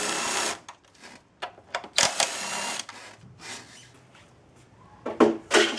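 Two 10mm bolts being loosened and removed by hand tool, heard as bursts of ratcheting and metallic clicks with short gaps between, fairly close and alone without talk.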